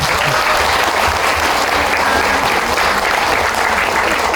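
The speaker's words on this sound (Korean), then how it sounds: "여러분 할 수 있게 박수 한번 주세요." Lecture audience applauding in a hall in Daejeon, a loud, even wall of clapping from a large crowd that holds steady throughout.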